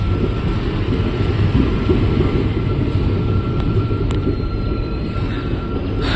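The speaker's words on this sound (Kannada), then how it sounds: "Belagola railway station" A train rumbles steadily at Belagola railway station near Mysore, a constant loud low roar with a faint whine, close and unbroken throughout.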